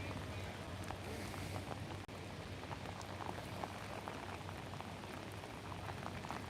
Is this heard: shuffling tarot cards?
no